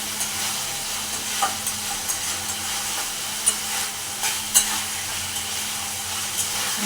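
Meat being sautéed kosha-style in a pan, a steady sizzling hiss with regular soft spoon taps and stirring scrapes every second or so, close and fairly loud, without speech.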